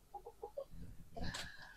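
A hen clucks softly several times in quick succession, followed by a louder squawk, close and faint.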